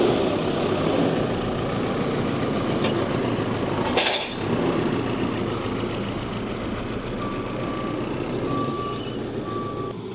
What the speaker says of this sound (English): just loading the bales up now onto my trailer